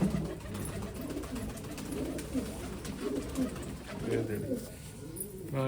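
Golden pigeons, Teddy golden dubwale birds paired in a loft, coo repeatedly in low throaty rolling phrases near at hand, with a faint voice in the background.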